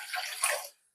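Water, 2.5 cups measured for a homemade herbal tea, pours in a brief steady splashing rush that fades out after under a second, with no voices.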